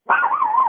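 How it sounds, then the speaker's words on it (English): Chihuahua giving a single drawn-out, high whining yelp of under a second, loud and close, with no talking over it. "It's a Chihuahua."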